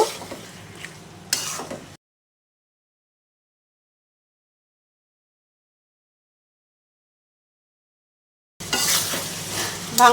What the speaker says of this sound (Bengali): এখন মশলা মাংসটাকে আবারও নেড়ে দেব